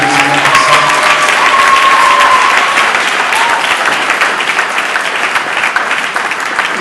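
Applause with scattered cheers fills a church service, a broad steady roar of clapping from a sizeable congregation that holds near and loud, easing slightly toward the end.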